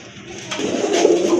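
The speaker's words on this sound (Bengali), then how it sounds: "খুবই চমৎকার এক জোড়া কবুতর কি যেন বলে এটাকে ভাইয়া জার্মান শিল কবুতর" A pair of German shield pigeons in a loft gives a soft, close cooing that swells after a brief quiet start, with a low throaty tone rising in loudness over the short stretch.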